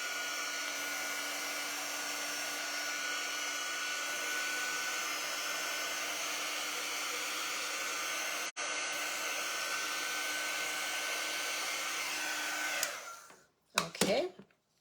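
A hair dryer blows steadily on a paper craft project, a loud continuous whir with a brief cutout in the middle, then switching off near the end, followed by a few handling sounds.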